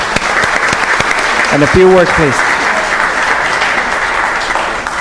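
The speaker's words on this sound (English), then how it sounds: "we thank them and give them a big round of applause" Applause from the audience at a city council meeting, a steady broadband wash of clapping running through the whole stretch while someone briefly speaks over it.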